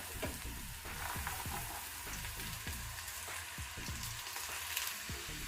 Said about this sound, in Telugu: ఈ వేడి వేడి నూనెలో ఇలా వేసుకోవాలి.